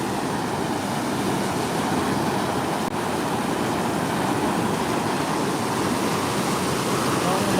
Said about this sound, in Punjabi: ਪਾਣੀ ਦੀਆਂ ਤਸਵੀਰਾਂ ਤੇ ਪਾਣੀ ਦੀ ਆਵਾਜ਼